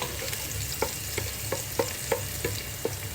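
Garlic sautés in a pan for kare-kare under a steady sizzle, with sharp evenly spaced taps of a utensil against the pan as it is stirred, close up and with no voices.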